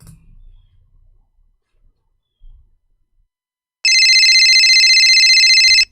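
An outgoing call to a cell phone starts with near silence and faint low thumps, then an electronic ringback tone sounds loud and steady for about two seconds before stopping abruptly.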